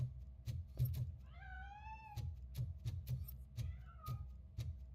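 A cat in the video game RoboCop: Rogue City meows twice, a longer rising-and-falling call and then a shorter one, over steady rhythmic heavy thuds that keep going throughout.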